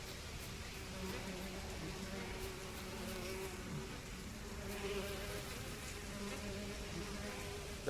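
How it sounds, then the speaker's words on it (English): A cloud of bees in The Witcher 3: Wild Hunt gives off a steady, dense insect buzz throughout, with a low droning hum under a faint ambient wash and no speech. "That seriously just a cloud of bees?"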